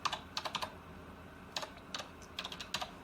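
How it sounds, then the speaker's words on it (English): Keys on a computer keyboard are typed in short bursts of quick, close clicks with brief pauses between them, a search term being entered, with no voices present. "You can simply type in here"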